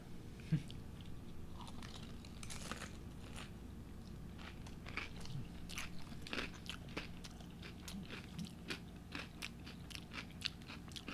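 Crisp crunching bites and chewing of a Doritos Locos taco, close to the ear, with irregular crackly snaps scattered throughout, quiet overall.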